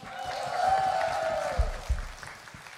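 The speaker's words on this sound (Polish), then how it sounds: "Brawa." Applause from an audience after a gospel choir workshop performance in Mszana Dolna, with a sustained tone fading as dense clapping swells and then thins out, punctuated by a few louder claps near the end.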